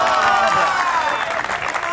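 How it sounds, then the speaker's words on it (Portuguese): A crowd at a favela giveaway event applauding and cheering, a dense, loud burst of clapping with raised voices that holds steady for about two seconds. "Uma salva de palmas."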